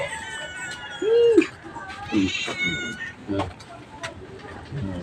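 Several hungry cats meowing close by, one long drawn-out cry and shorter mews after it, with people talking in the background.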